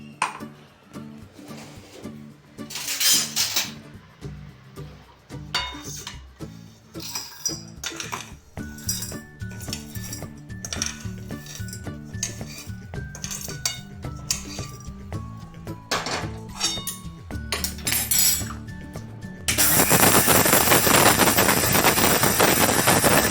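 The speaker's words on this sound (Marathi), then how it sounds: "आता मी ते मिक्सरमधून काढते." A spoon clinks and scrapes inside a mixer jar as ground barnyard millet and sago flour are scooped out in a home kitchen, irregular metallic taps followed by a loud steady whooshing rush.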